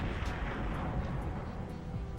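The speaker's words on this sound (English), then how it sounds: "You pause to let it unload, let the explosion unload" A GoldenEye video game explosion, a sustained dense roar of blast and crackle that runs unbroken through the whole moment, loud and broadband with no voices.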